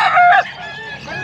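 A rooster crows once, loud and close, at a hatchery in Angeles, Pampanga, with the call trailing off into quieter background noise.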